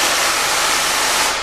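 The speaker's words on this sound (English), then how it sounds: "it's just a compressor making noise." An air compressor runs steadily nearby, giving a loud, constant broadband hiss and hum that carries on unchanged, with no speech.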